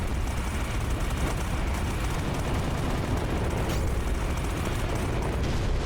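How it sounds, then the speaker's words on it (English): Dense, continuous barrage of explosions and rapid projectile fire from the space shooter game Starlight: Eye of the Storm, loud and sustained throughout with no pauses. "Very explosive sound effects and big explosions and lots of projectiles"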